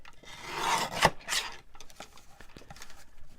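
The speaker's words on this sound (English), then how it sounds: "So I'll trim that as I'm doing it. And go ahead and trim this side." Scissors trim the crooked edge of a fabric wrap with five pockets, giving a few close, dry rasping and rubbing cuts, one sharper snip in the middle and quieter scraping afterwards.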